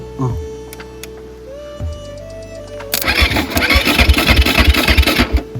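A motorcycle with a cutout fault is kicked and cranked, with a few mechanical clicks and ticks before the engine catches and runs in loud, uneven, pulsing bursts close by.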